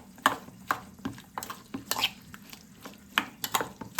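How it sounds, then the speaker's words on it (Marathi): Curd with finely chopped chilli stirred for a chicken biryani marinade, a spoon clacking and scraping against a bowl in quick irregular strokes, close and clear with no talking. "थोडी बारीकशी कापलेली मिरची आहे ती मिक्स आता बारीक मिक्स करून घेऊ आता"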